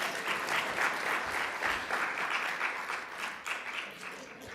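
A seated audience at the 2024 Sustainable Tourism Conference in Grenada applauds in a steady spread of many clapping hands, moderately loud and fairly even throughout, with no speech over it.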